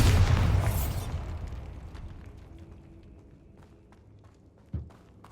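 A Bombarda spell explodes in Hogwarts Legacy with a loud booming blast that decays over a few seconds, followed by a quieter thump near the end.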